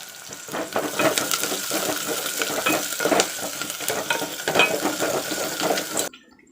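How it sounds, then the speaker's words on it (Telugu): Two sprigs of curry leaves and green chillies crackle and sizzle in hot oil for okra pulusu, a busy spattering hiss that carries on evenly and then cuts off abruptly near the end. "కరివేపాకు వేసుకుందాం ఫ్రెండ్స్."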